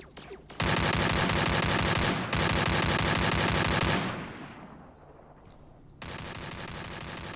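Automatic gunfire in the mobile game Free Fire, loud and close, comes in long rapid bursts broken by a short gap and a fading tail before another sustained burst.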